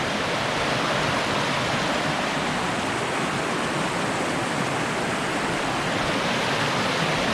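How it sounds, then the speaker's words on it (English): Steady, full rushing of creek water flowing continuously, a dense broadband wash with no pauses and no voices. "look at this beautiful creek"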